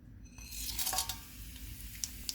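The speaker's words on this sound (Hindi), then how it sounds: "ऑयल गर्म हो गया, इसमें साबुत मसाला डालेंगे।" Whole spices, including bay leaves, cardamom, black peppercorns, cinnamon, cloves and cumin, crackle and sizzle in hot oil for a Mughlai chicken, with a steady close frying hiss and a few stirring clinks against the pan.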